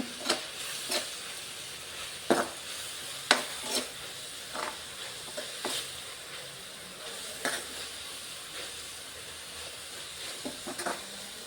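Soy sauce hits a hot pan of fried rice with vegetables and onion leaves, giving a steady sizzle with repeated sharp scraping and clinking stir strokes of a spoon against the pan, close and clear.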